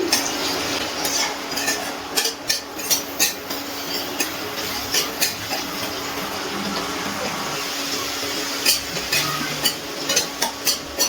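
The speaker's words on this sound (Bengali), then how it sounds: "ইন্ডাকশনের আঁচটা আমি হাইতে দিয়ে পেঁয়াজটা খুব ভালো করে ভেজে নিচ্ছি।" Onion fries in a pan on an induction cooker over high heat, with a constant close sizzle and repeated scraping, clinking strokes of a spoon stirring it in a steady rhythm.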